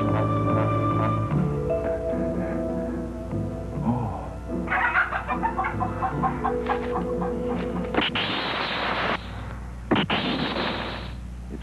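Chicken clucking in a Japanese tokusatsu television episode: a run of bird calls over a steady background music bed, followed by two loud broadband bursts, with no talk during the stretch.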